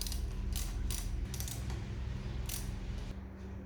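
A screwdriver works at the brake fluid reservoir cap of a Royal Enfield Himalayan motorcycle, giving faint clicking, ratcheting and creaking mechanical sounds in short bursts close by.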